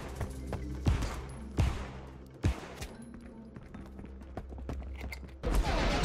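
Repeated pistol shots from an M712 in the video game Marauders, several sharp reports spaced irregularly over a low steady background hum.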